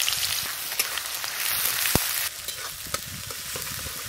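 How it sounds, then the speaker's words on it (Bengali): Chopped onion hitting hot mustard oil and frying with a steady, close crackling sizzle, a few sharper pops and a brief louder crackle partway through, no voices. "এবার দিয়ে দেব পেঁয়াজ কুচি,"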